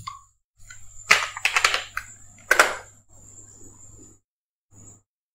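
Keys are pressed on a computer keyboard, a handful of sharp clicks in small bursts close to the microphone over a faint electrical hum.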